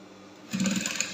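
A sewing machine starting up to stitch the back of a keyhole corset, a brief hum that kicks into a fast buzzing run after a quiet moment, close and moderately loud.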